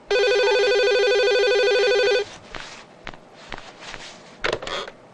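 An electronic telephone ringtone sounds loud and steady with a bright, buzzy tone for about two seconds, then cuts off. Quiet handling noises and a brief voice follow in an indoor comedy film scene.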